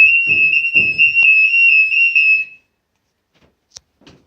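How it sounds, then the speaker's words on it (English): A building's fire alarm sounds as a loud, steady high-pitched electronic tone for about two and a half seconds, with a low rumble beneath it, then cuts off, leaving near silence broken by a couple of faint clicks. "There's some sort of alarm going off."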